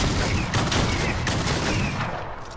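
A primal shotgun in Fortnite fires in a dense barrage, giving a loud, continuous crackle of overlapping blasts with no pause between them.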